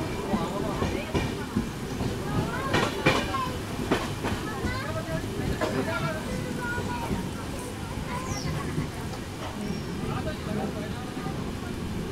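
The Hussain Sagar SF Express from Hyderabad to Mumbai CSMT rolls along with a steady rumble and rhythmic wheel clatter heard from on board, while people talk in the background.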